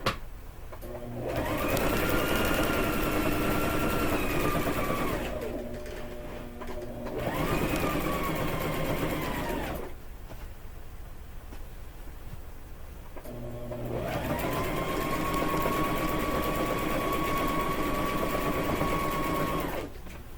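Sewing machine stitching the seams of a quillow, a quilt that folds into a pillow, running in three long close bursts of steady whirring with short pauses between them, and no talking.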